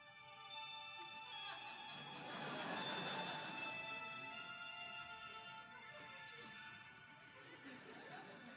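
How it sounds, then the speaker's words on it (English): A generic phone ringtone plays as a bright, repeating melodic tone at a convention panel, faint and roomy, with crowd murmur and laughter around it. "here's my generic people ringtone."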